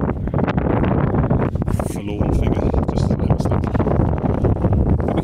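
A gusty wind on a misty hilltop along the South Downs Way buffets an exposed microphone with a heavy low rumble and roar. Someone talks briefly over the constant blustering noise.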